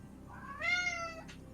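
A single cat gives a clear, rising meow backstage, a moderately loud cry lasting under a second over a quiet background.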